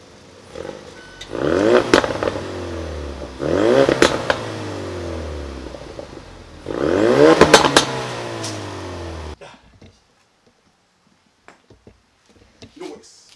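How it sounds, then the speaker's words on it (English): Ford Focus RS fitted with an MBRP exhaust, heard close up as three loud revs that rise and fall, with crackles trailing each one, followed by quiet. "Give her some revs."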